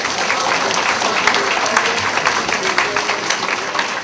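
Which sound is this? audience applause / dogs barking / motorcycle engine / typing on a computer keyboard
audience applause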